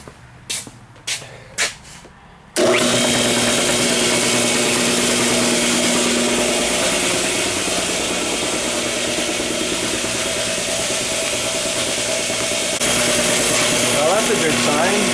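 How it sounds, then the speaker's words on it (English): An air compressor filling a Vulcan tire machine switches on after a few sharp knocks and then runs loud and continuous close by, with a steady motor whine and airy hiss that stays constant throughout. "So I'm going to turn on the compressor and get some real air in here"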